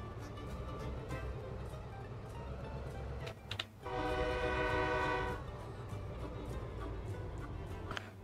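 Train horn from a locomotive in the railroad simulation game Railroad Engineer, a sustained loud blast of about a second and a half rising over continuous rumbling engine and rail noise, with no talking.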